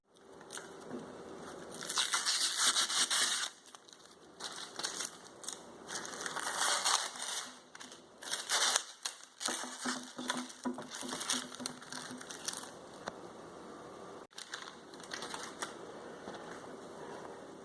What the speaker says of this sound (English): So I'll get all this plastic off and we'll take a look at her.